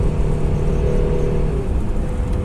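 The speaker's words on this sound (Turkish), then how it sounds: "Panik gaz yaptım araba direktmen hızlanıyor." Renault Megane accelerating hard under a sudden surge of throttle, its engine droning loud and steady with a rising whir and close road rumble throughout, no voices.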